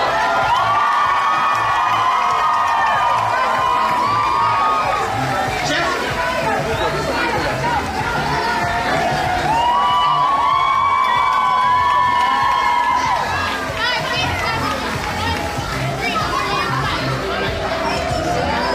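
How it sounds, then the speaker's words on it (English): An audience at a breast cancer fundraising event cheers survivors on with sustained, lively crowd cheering, shouts and high-pitched whoops, and a voice speaks over the noise. "Let's cheer the survivors on."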